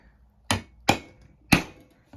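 Chisel being struck to cut a groove along a wooden edge: three sharp, close mallet-on-chisel knocks with short ringing decays, spaced irregularly, then a faint fourth tap at the end.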